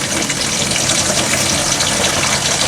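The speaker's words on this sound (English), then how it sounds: "So I got some water flowing through here." Water rushing through a newly installed shut-off valve into a travel trailer's tank, a loud, steady gushing hiss that holds constant throughout without pauses.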